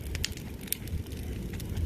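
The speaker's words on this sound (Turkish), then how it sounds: "Bunları ben de ateşledim. Burada ben de yakıyorum." Pruned fig branches burning in an outdoor fire in a fig orchard, giving a steady low rumble with scattered sharp crackles and pops, fairly close.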